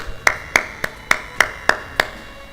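Seven sharp, evenly spaced claps ring out alone in a quiet room, each a crisp single slap with a short decay.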